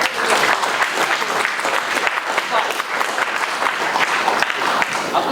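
Crowd applause at a mechanical engineering final-year project showcase, dense and continuous clapping from a close, lively audience lasting several seconds with faint voices mixed underneath.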